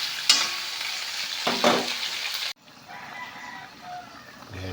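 Loud, steady sizzling of chicken sautéing in a pan with onion and garlic, with stirring scrapes, then the sizzle abruptly drops to a softer simmer.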